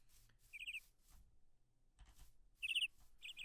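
Small birds in the Minecraft modpack SevTech chirp in short quick bursts of high twittering calls, a few separate clusters against a quiet background.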